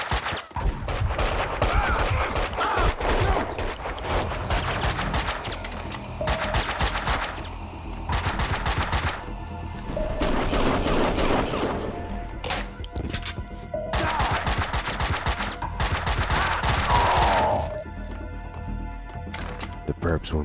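Gunfire from the video game Max Payne 2 on Xbox: repeated loud bursts of shots and impacts in several clusters over a steady bed of game noise, with a voice talking through parts of it.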